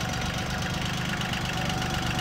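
A Sunrise JD series 3-cylinder 18.5 HP tractor engine idles with a steady, low, throbbing rumble, close and continuous with no voices.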